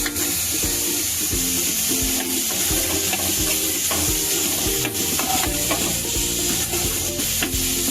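Onion and finely chopped tomato frying in a pan for stuffed brinjal, a loud continuous sizzle with rhythmic spatula scraping and clatter close by, no talking.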